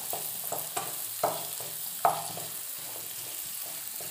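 Onions fry on full flame for chilli pork, a steady hiss of hot oil broken by several soft scrapes and knocks of a stirring spoon against the pan, with no talking.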